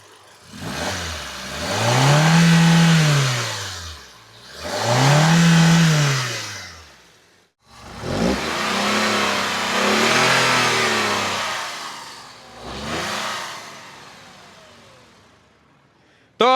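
Tata Punch compact SUV engine revved twice in strong rising-and-falling surges, then a longer rev with a third burst, loud and close with no talk over it.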